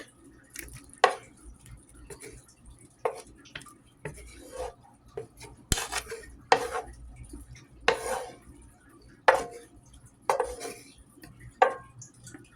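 Chopped onions, peppers and garlic slid into a pot on top of beef neck bones, several soft wet scrapes and clinks of a utensil against the pot, spaced out and fairly quiet.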